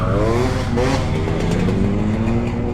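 Lime green Triumph Speed Triple motorcycle passing nearby, its engine note rising and sweeping in pitch as it goes by, loud and close over a steady road rumble.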